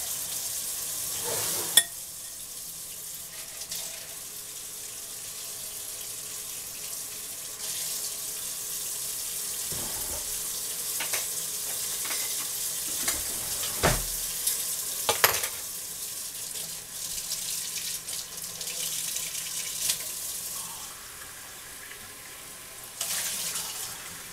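Hot water runs steadily from a tap with a constant hissing splash, punctuated by a few faint clinks and knocks nearby.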